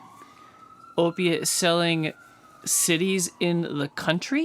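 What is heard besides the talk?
emergency vehicle sirens outside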